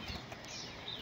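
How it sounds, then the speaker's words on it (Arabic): Iraqi royal pigeons flap their wings in a brief, soft, continuous flutter heard close, with no voices over it. "حمام ملكي، طيور كلها محمية عراقية"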